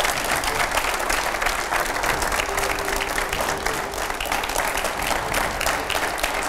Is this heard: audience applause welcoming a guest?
yes